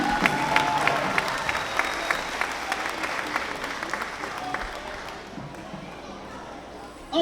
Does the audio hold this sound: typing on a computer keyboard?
no